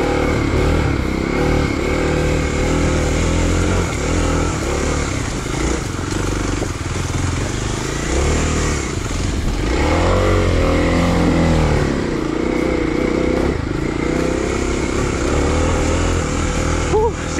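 A Kawasaki KLX250 dirt bike climbing steep mountain single track at around 5,000 feet elevation, its engine droning and revving unevenly throughout, close up, with a rider talking over it.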